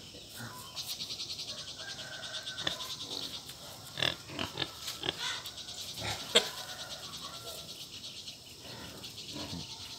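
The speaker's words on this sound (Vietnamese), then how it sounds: "Đây là heo đực tán gái nha." Male pig grunting as it courts a sow on a Central Highlands farm, a run of rough, irregular grunts and snorts at close range with bursts of louder squeals, over a steady hiss of background noise.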